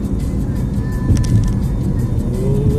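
A car crosses the repaired Forth Road Bridge, heard from inside as a continuous loud road rumble and engine drone with no break.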